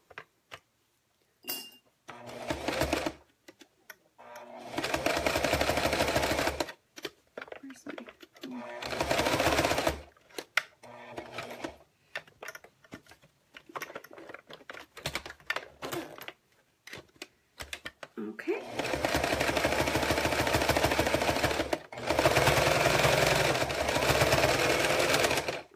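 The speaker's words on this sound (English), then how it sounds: "So let's just sew over that." A sewing machine runs over an existing seam on a zipper lining, in several bursts of rapid stitching separated by pauses, with a voice talking between runs.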